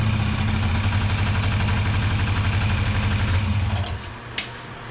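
A Japan surplus Honda Dio scooter engine runs at a steady, close, buzzing idle with rhythmic pulsing, then cuts off near the end, followed by a sharp click and quiet.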